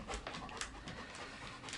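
A dog pants in quick, faint breaths close by, a soft rhythmic huffing in a quiet room with no talking.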